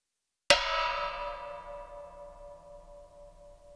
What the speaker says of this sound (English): That's the sound of me hitting this box that I made and nailed all kinds of strings and springs to